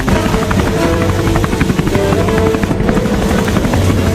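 A cartoon helicopter's rotor thumps steadily with a dense low engine roar, loud and continuous throughout.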